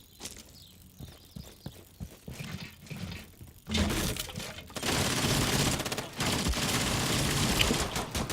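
Rainbow Six Siege gunfight: soft clicks and distant shots give way to sustained loud automatic gunfire and rattling bursts, with no talk over them.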